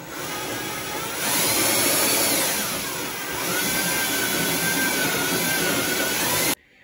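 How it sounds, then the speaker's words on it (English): A power drill fitted with a step bit bores through an arcade cabinet control panel, a steady loud whirring grind lasting several seconds with slight pitch shifts as it cuts, then stopping abruptly. "now that we've drilled that hole on the left-hand side"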